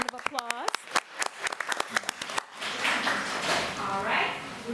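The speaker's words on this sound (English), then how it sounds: "Let's give them a round of applause." Applause from a school board meeting audience honoring a student's parents, starting with scattered claps and building into a fuller, steady round of clapping in a hall.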